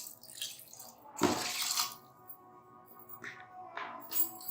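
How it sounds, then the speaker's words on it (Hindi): Water is poured into a pot of rice while cooking sulemani palawo, a close gurgling splash in a few short bursts, the loudest about a second in, with quiet kitchen gaps between. "अब हम थोड़ा सा इसमें पानी ऐड करेंगे"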